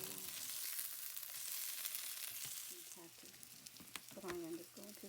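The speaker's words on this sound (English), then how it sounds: "Place the fish cakes onto the hot pan and sprinkle flour on top of each cake." Fish cakes dusted with flour fry in oil in a hot pan, giving a soft, continuous sizzle with crackles and a few scraping stirs near the end, fairly quiet.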